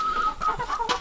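Chickens in a barn coop housing about 100 birds cluck in overlapping bursts, a close, busy farmyard chatter with no talking.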